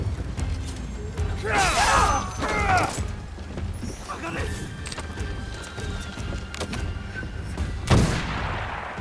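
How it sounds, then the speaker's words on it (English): Enemy gunfire in Assassin's Creed Shadows comes as scattered shots and clattering impacts amid busy game action, with a sharp loud crack near the end and voices talking over the mix. "They're shooting at us!"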